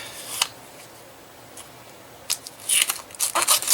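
Snips of scissors cutting faux metal modeling film, a lone crisp snip early, then a quick cluster of sharp close cuts near the end, with no talking.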